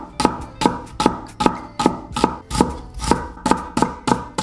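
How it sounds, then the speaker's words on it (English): A kitchen knife slices thinly through onions on a cutting board, each cut a crisp, close thud in a steady rhythm of about two per second, eleven strokes in all, with no voices. "we're going to start by thinly slicing some of the onions"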